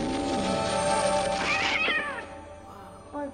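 A cat meows in a scene from the 1990 film Ghost, a few drawn-out, rising-and-falling meows over soft background music and film dialogue, with a short final mew near the end.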